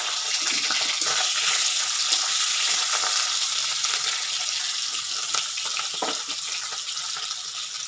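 Fish frying in a pan with onion added, giving a loud, steady broadband sizzle that holds for the whole stretch with a few brief crackles and spits.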